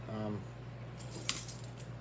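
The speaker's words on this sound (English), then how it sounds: "I got my keys. They're on this Night Eyes carabiner." Keys clipped to a slim carabiner jangle in a short metallic burst after a brief hum, close and fairly quiet.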